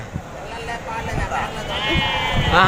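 Goats at a rural market bleat in short, wavering cries, rising louder toward the end, with people talking and a general market babble underneath.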